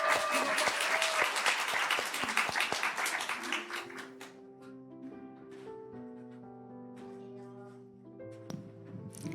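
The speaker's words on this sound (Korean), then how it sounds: "앞으로 나오실 때 또 큰 박수로 우리 맞이하도록 하겠습니다." Applause from a church congregation at a Wednesday prayer service and discipleship training graduation, a dense burst of clapping that thins after a few seconds and gives way to sustained organ or keyboard chords.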